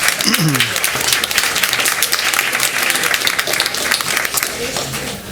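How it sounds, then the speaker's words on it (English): Sustained applause from a large crowd at a school district board meeting, dense steady clapping throughout with some voices mixed in. "One more round of applause."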